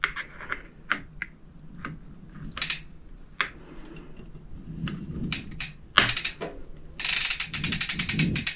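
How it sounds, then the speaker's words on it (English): An 8 mm hex wrench ratcheting on a mountain bike, heard as bursts of close metallic clicking, sparse at first and then a fast continuous ratchet run near the end. "Millimeter hex wrench."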